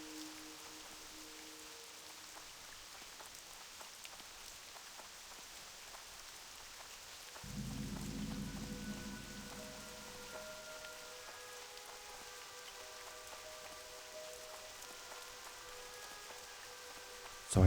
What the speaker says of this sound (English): And it's raining. That's perfect.